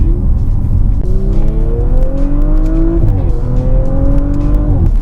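An Audi RS5 sports car engine revs up loudly with rising harmonic tones, shifting gears around the midpoint and climbing again, close and continuous.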